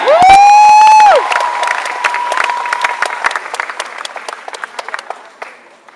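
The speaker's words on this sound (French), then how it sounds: "On les applaudit." A sustained tone fades out and an audience at a Japan Expo cosplay event applauds, with scattered cheers, gradually thinning and dying down by the end.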